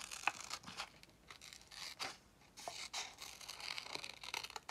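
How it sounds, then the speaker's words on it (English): Faint paper crinkling and a series of soft, irregular snips and rustles as paper shapes are cut out one at a time by hand, close by and with no talking. "And then I'm going to cut one out at a time."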